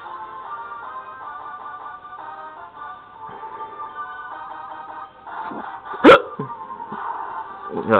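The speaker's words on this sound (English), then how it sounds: "Got hiccups again." A single sharp hiccup from a player breaks in over steady, tinkly Final Fantasy I & II Dawn of Souls game music, standing out loud and close against the soundtrack.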